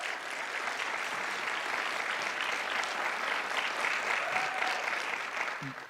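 A concert audience gives a sustained, even round of applause, a dense wash of clapping from a large crowd that continues without break for several seconds.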